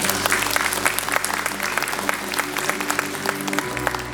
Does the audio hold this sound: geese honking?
no